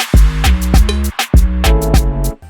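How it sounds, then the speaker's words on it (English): An Afrobeat drum pattern from a moombahton remix production plays loud and close: punchy booming kicks with tonal decays, crisp snappy hits and rapid syncopated percussion in a bouncing groove. "So if we go back to the Afrobeat I initially made"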